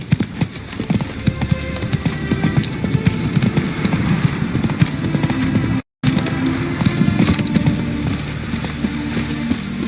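Roach, Geralt's horse in The Witcher 3: Hearts of Stone, gallops with steady rapid hoofbeats under a dense game soundscape, loud and continuous apart from a brief dropout midway.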